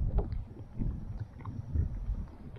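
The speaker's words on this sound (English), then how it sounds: "not a whole lot you can do when the wind picks up and you're on this paddle board" Gusting wind rushes over open water around a paddleboard, a steady low buffeting roar with irregular swells and small splashes, no voices.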